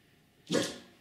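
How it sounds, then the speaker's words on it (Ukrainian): A single sharp dog bark, close and fairly loud, cuts in after a quiet pause during obedience training on the speak command. "собака, якщо спілкується гавканням"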